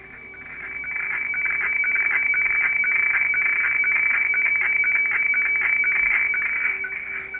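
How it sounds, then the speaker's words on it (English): An HF weatherfax radio facsimile transmission comes over a receiver as a steady, loud, warbling high tone with faint rhythmic ticks and radio hiss, continuous and alone. "What you're hearing there is a Weatherfax downloading what they call a radio fax or a radio facsimile"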